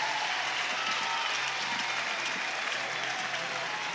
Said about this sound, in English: Reigning All-American and getting a standing ovation right now.